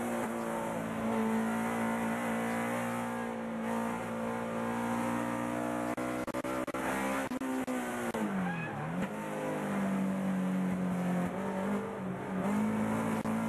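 Touring race cars roar past on a circuit during a Nitto Tire US Touring Car Championship race, engines droning loud and steady, with a brief drop in pitch as they brake and downshift into a turn before accelerating again.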